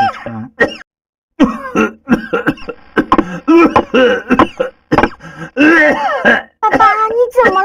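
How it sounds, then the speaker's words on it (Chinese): A man coughs and clears his throat in short, harsh bursts, a heavy cough that has lasted for days. Speech-like voices are mixed in between the coughs, close and fairly loud. "这几天你咳得好严重"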